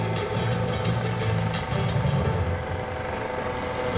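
A U.S. Coast Guard search and rescue helicopter hovers low over the 2016 New York Airshow, lowering a rescue swimmer on an electric winch with steel cable; its loud, steady rotor and engine roar fills the scene throughout.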